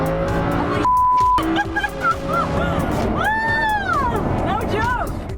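A Lamborghini Huracan in sport mode revs and accelerates hard, its exhaust rising and falling in pitch through shifts, with tire noise and a voice talking over the engine.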